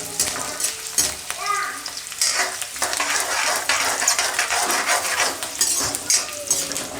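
Chilies and cashew pieces fry and get stirred in a pan for Gujarati orange rice. A loud, steady sizzle runs throughout, with frequent metal scraping and clinks from the utensil against the pan.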